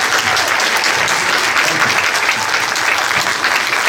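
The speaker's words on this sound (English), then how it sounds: "Big round of applause for Mick Jackson." A cinema audience applauds a film director after a Q&A, a thick, even roar of clapping from a full room lasting the whole few seconds.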